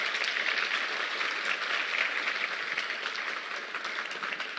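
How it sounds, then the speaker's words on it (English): An audience at a cancer program fills the room with dense, continuous applause for a group of physicians, an even wash of many hands clapping for several seconds with no voices over it. "I think we need to give these fine physicians another round of applause."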